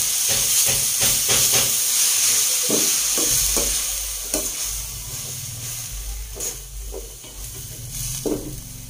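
Swordfish and banana heart sauté in a pan, stirred under a steady hiss and sizzle, with scrapes and clicks of the utensil against the pan and no talking.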